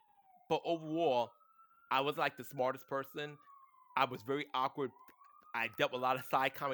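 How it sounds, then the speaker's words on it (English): A fire truck siren wails outside in the Bronx, a steady tone sweeping up and down faintly beneath someone talking nearby. "sorry about the sirens outside."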